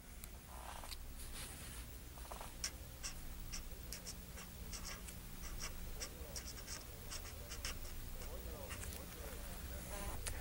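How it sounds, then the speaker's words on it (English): A pen scratching on paper while drawing a caricature, faint rapid strokes and ticks repeating throughout, under a steady background hum and someone talking. "write it in"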